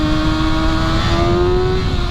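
Sport bike with an inline-four engine revving hard, a loud, steady high-pitched wail climbing slightly in pitch over two seconds, close and continuous with no speech.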